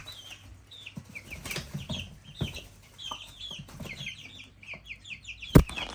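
A young chicken clucking in short repeated calls close by, with a sudden sharp burst of wing flapping near the end, in a quiet outdoor setting.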